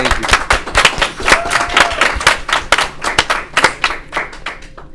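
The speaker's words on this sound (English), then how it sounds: "applause." Enthusiastic applause from a small studio audience at a broadcast network show, steady crisp clapping running throughout at close range with no talk over it.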